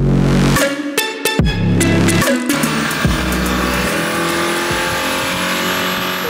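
Mercedes-AMG hybrid turbocharged car roaring on a dyno, loud sustained engine with sharp rev blips and gear shifts in the first seconds, then a steady high-load drone building throughout.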